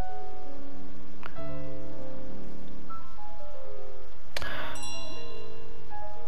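A bell rings in Untitled Goose Game, layered over the game's plucky piano music, with a bright metallic strike near the start and a louder, fuller clang past the middle that rings on and decays.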